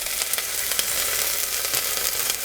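Carrots hit hot olive oil in a preheated pot for smoked chicken soup, giving a steady, close hiss of frying with a few brief crackles and no voices.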